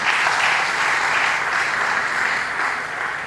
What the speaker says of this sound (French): je vous demande encore d'applaudir les ministres provinciaux qui sont avec nous ici